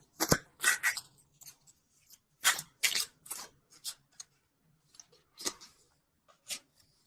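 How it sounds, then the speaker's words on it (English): Tarot cards slide and snap from a deck in a love reading, giving a run of short, crisp papery flicks and rustles at irregular intervals, close and fairly quiet with no voice over them. "let's pull universal love cards"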